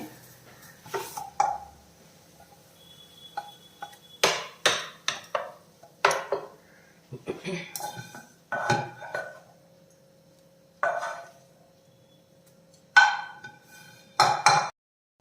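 Fried onion is stirred into dosa batter in a pot with a spoon, producing a series of irregular scraping knocks and clinks with brief quiet gaps, close and fairly clear.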